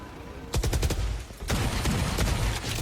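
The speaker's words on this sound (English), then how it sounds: "See if EG can let rip a couple of these hand cannons as well." Rapid bursts of gunfire from hand cannons in a professional Valorant esports match, EG versus NRG, with dense overlapping shots in two volleys, loud and close.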